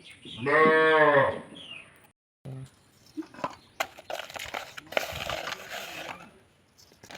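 A cow moos once, a long, loud low call near the start, followed by quieter rustling, clattering and faint background noise.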